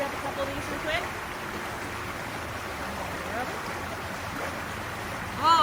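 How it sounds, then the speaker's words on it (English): Flowing water of Cullowhee Creek, a mountain stream in Cullowhee, North Carolina: a steady, even wash of rushing water heard from up close throughout, with a few faint splashes at the end. "I'm actually in Cullowhee Creek in Cullowhee, North Carolina."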